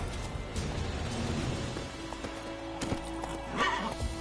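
A horse in The Witcher 3 gallops with rapid, steady hoofbeats, then gives a short, clear neigh near the end, set against game ambience.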